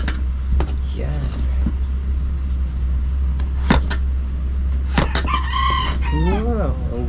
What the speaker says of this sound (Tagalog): Wow, ang ganda ng boses ng manok na to ah.